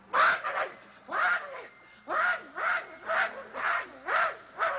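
A man imitates a chicken with laryngitis, giving a series of about eight hoarse, rasping squawks in an even rhythm, close and fairly loud with brief gaps between.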